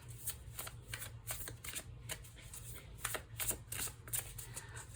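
Tarot cards are shuffled by hand in quiet, close bursts of riffling and flicking that repeat irregularly, soft and alone with no talking.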